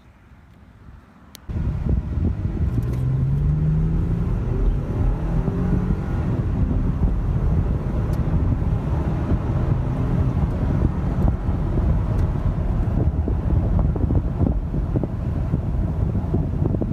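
A 2017 Ford Expedition fitted with a K&N cold air intake drives along, its steady engine rumble buried under heavy, continuous wind buffeting after a quiet opening second.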